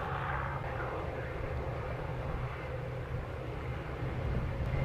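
An American Airlines airliner rumbles in on final to runway 07 at Montego Bay, a steady, moderately distant engine roar holding even throughout.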